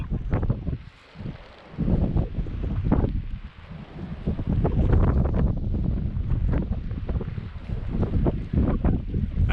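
Strong wind gusts buffet the microphone while flying a kite, in loud, roaring surges that rise and fall unevenly, with brief lulls between them.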